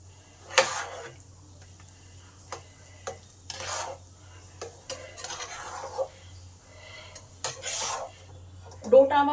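A spoon scrapes and stirs thick suji dough in a pan in repeated close rasping strokes, with a low steady hum underneath.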